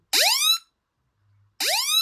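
An Apple Watch Ultra emergency siren sounds in two loud, piercing rising sweeps separated by a short silence, shrill and close with no talking.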